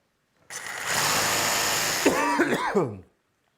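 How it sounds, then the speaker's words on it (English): A jigsaw buzzing through PVC plastic in one short burst, with a person coughing as the cut finishes. "I'm just going to use a jigsaw. Hopefully this works good in PVC."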